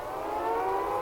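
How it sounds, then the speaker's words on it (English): An ear-piercing siren from the video game Siren: Blood Curse blares as a steady, loud, sustained wail with no break across the whole moment. "you just have to deal with the ear-piercing sound of the siren."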